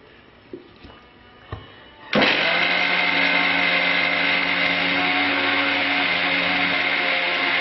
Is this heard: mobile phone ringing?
no